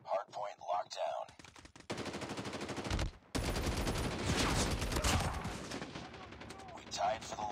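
Rapid automatic gunfire in a Call of Duty Mobile hardpoint match with an OTM magazine and DRH rifle, dense bursts of shots filling most of the clip, close and loud, with game voice callouts between.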